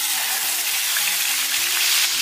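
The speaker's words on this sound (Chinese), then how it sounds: "油热之后下入豆腐" Soft tofu goes into hot oil in a nonstick pan over medium heat and gives a loud, continuous sizzle with crackling spatter and no voices.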